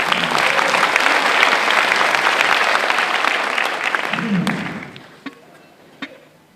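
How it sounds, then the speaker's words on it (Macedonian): An audience at a live comedy show applauds loudly and evenly, then the clapping fades away into a few scattered claps and a thud. "Ајде на аплауз за одмор."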